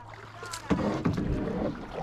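Kayak paddling on open water, with a steady wash of splashing and swirling water after a quieter start, plus faint wind and a low voice murmuring in the background.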